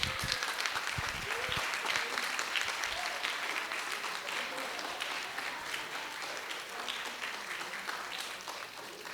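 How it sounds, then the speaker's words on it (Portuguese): An audience claps at a school mock jury trial after the verdict is announced. The dense, steady applause of many hands carries on for several seconds, fading slightly toward the end. "uma salva de palmas para os dois lados"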